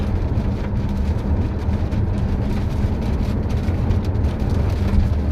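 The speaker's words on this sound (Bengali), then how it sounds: "বাইরে প্রচন্ড বাতাস।" Strong wind and rain outside make a loud, constant roar of low rumble and dense hiss that does not let up, with no voices.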